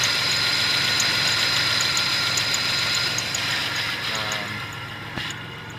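A 1998 Dodge Grand Caravan SE engine runs at idle, with a steady mechanical hum and a thin, repeating high chirp from a worn AC belt near the AC clutch, heard up close before it fades slightly.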